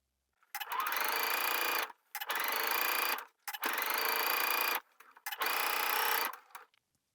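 A sewing machine understitches a shorts facing 1/8 inch from the seam, running in four steady bursts of rapid stitching with brief pauses between them, close and clear with no talk.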